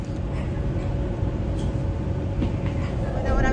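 Steady rumble of a moving train during a ride, a dense, continuous low-frequency roar with rattling that holds at an even level throughout.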